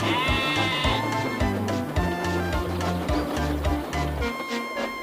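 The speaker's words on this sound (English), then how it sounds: "The frightened sheep scampered out of the way." Sheep bleating near a railway line, with several wavering bleats in quick succession, clear and close, layered over a gentle rhythmic musical accompaniment.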